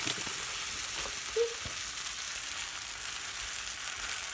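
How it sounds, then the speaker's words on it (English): A buttered tortilla, laid butter side down on a hot griddle for quesadillas, sizzles in a steady, close, loud hiss that runs unbroken throughout, with one faint brief clink and no voices. "You're going to smack this bad boy right on the griddle, butter side down."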